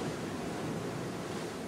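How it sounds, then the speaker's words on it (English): A continuous wash of surf from Hawaiian waves breaking near the shore, a dense even roar mixed with wind noise and no voices. "Those out there are breaking quite a ways out into the ocean."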